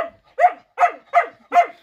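A dog in a village barks four times in quick succession, sharp and close, evenly spaced about a third of a second apart.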